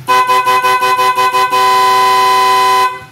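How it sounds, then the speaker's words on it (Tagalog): A loud aftermarket horn on a Yamaha Mio Gear motorcycle honks in a rapid series of short blasts, then holds one long continuous blare before cutting off. "subukan naman natin yung loud horn"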